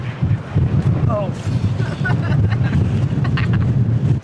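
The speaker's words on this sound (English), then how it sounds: "I'm not sure I've ever experienced wind like this. This is amazingly windy." Strong gusting wind buffeting the microphone on Mount Wellington above Hobart, Tasmania, a loud continuous low roar with people talking underneath.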